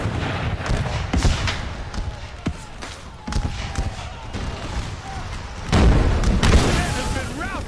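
Artillery fire in a Napoleon: Total War American Civil War battle, repeated deep booms and thuds at irregular intervals, some distant and some close, with a voice talking over the battle.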